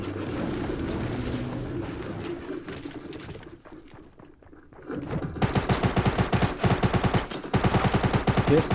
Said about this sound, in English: some machine gun with a suppressor